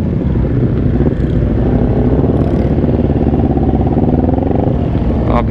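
Motorcycles such as a CBR250RR and Ninja 250 race against Aerox and Vario automatic scooters on a road, producing a loud, continuous engine drone with rising and falling revs close by, without talk.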